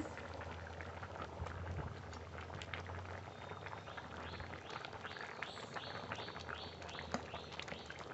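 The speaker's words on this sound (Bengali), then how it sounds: "এবার ভালো করে জাল দিয়ে নেব" A pot of khichuri with tomato and green chillies bubbling on the heat, steady boiling with frequent pops and soft plops, close by, with no talking.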